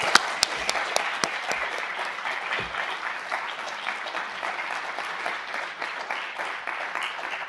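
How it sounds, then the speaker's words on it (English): Audience applause for a guest speaker at a Washington forum on Northern Ireland, a steady dense wash of clapping from a large crowd that holds evenly for the whole stretch, with a few sharper individual claps near the start. "I think a round of applause is due to..."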